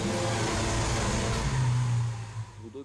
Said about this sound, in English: The V12 motor represents what for us is the sound, the music of the car